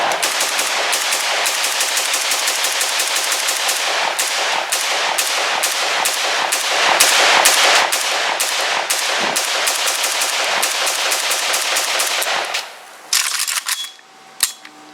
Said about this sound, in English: let's plug in another shooting clip. FM-RPK74.